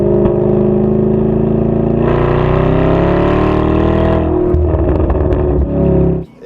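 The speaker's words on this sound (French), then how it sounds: "Je suis maintenant assis dans un Porsche Cayenne GTS, la version la plus réputée car son bruit du V8 est tout simplement envoûtant." A Porsche Cayenne GTS V8 heard from inside the cabin: a loud, steady engine drone that swells to a stronger, revving pitch about two seconds in, then eases near the end, with no talking.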